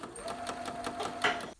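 Sewing machine stitching a seam on a fabric face mask, a rapid run of evenly spaced mechanical needle beats, close and clear, ending abruptly.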